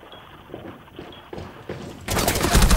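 Gunfire in Rainbow Six Siege on the Stadium map: soft scattered thumps at first, then a loud dense burst of shots erupts near the end and keeps going.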